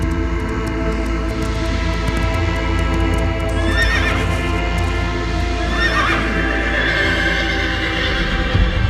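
A horse neighs and whinnies repeatedly over a dense film sound-effect backdrop, with hoofbeats clattering and a loud rumbling bed throughout.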